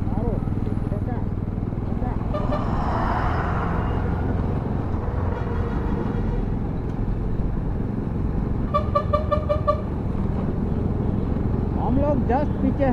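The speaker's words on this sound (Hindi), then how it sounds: "ये दो ट्रक आ रहे एक साथ," Heavy trucks, including a petroleum tanker, rumble along the Keshkal Ghati mountain road in Chhattisgarh with engines droning, and horns honk in short bursts; people talk over the steady traffic noise.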